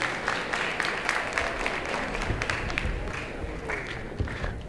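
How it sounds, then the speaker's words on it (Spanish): Church congregation applauding together during a Saturday morning prayer-week service, a steady wash of many hands clapping with a few louder nearby claps, continuing evenly throughout. "Fuerte aplauso para todos."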